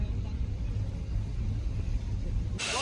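Heavy road traffic on the mountain road from Manali to Solang: a continuous low engine rumble of idling and creeping vehicles, steady and close, with a brief hiss near the end.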